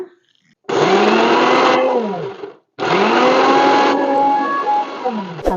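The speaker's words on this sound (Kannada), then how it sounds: "ಇದನ್ನು ಮಿಕ್ಸಿಗೆ ಹಾಕೊಂಡ್ರಿ ಈಗ" A kitchen mixer grinder whirs loudly as it blends red chilli chutney, in two long bursts separated by a brief pause, its motor pitch dipping and rising.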